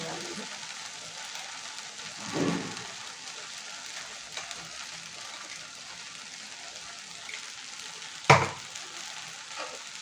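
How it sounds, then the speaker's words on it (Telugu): Okra fry with coconut powder stirred in a pan, a steady sizzle with scraping spoon strokes and one sharp clank of utensil on metal, while someone talks over it. "కొబ్బరి పొడిని యాడ్ చేసి మనం బాగా మిక్స్ చేసుకోవాలి"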